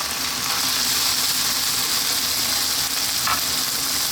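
Fresh ripe tomatoes sizzle in a hot pan for a chicken curry, a loud, even hiss that holds steady close by with a faint clink of stirring near the end.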